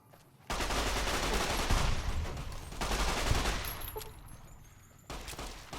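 Sustained automatic gunfire from a weapon in the post-apocalyptic game Fallout: New Vegas comes in two long dense bursts and then a third, broken by brief quiet gaps.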